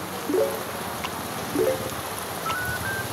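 Steady rain hisses across a street in Malolos, a soft continuous wash with a few brief chirping tones rising above it.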